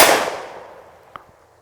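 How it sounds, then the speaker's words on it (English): A TriStar Viper G2 .410 shotgun fires one loud, close shot whose ringing boom fades over about a second, followed by a faint, sharp click or pop shortly after. "I'll try to shoot some pretty quick on that, that target right there for you."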